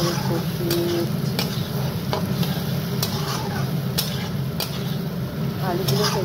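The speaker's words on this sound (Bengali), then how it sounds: "টমেটো দিয়ে এখন মশলাটা ভালো করে কষিয়ে নিচ্ছি" A spice paste of ground masala, turmeric, salt, green chili and tomato is stir-fried in a pan. A steady sizzle runs underneath while a spatula clicks and scrapes against the pan now and then.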